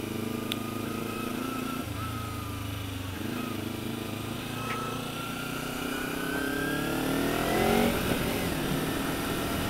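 A motorcycle threads through traffic at night, its engine holding a steady mid-pitched drone that swells into louder revving near the end, with faint road noise around it.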